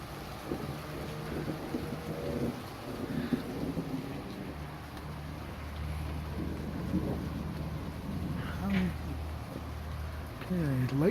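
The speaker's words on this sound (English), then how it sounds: "rain's coming in, but I don't mind." Light rain falling with occasional low thunder rumbles during a small summer thunderstorm in Red Deer, Alberta, steady wash of rain throughout with someone talking intermittently over it.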